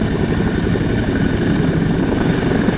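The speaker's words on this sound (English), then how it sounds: "due to resonance, the helicopter got crashed" A helicopter shaking itself apart from resonance before crashing gives a loud, steady roar of rotor and engine noise that holds without a break, with no voices.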